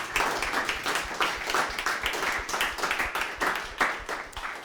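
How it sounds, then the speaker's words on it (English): A workshop audience gives a round of applause for the presenters, a full, fairly close burst of many hands clapping, with uneven rhythm and a steady level throughout. "perhaps another round of applause for our wonderful presenters today"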